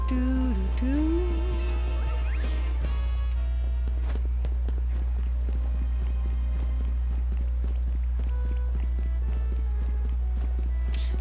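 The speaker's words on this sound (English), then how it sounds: "they're literally just covering the sound that Pokemon's footsteps make" Footsteps of a Pokemon in the video game Pokemon Legends Z-A, a quick run of soft clip-clop steps that land steadily over a constant game hum.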